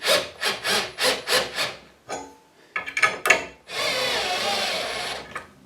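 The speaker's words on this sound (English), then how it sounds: "I have to hold the cordless drill quite tight." A cordless drill in a workshop drives a bolt into a padlock core: a series of short, rhythmic grinding bursts, then a louder, sustained motor whine as the bolt tightens.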